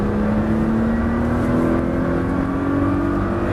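A Nissan GT-R sports car engine revs steadily upward as it accelerates on a track, a rising whine over a constant engine roar, close and loud.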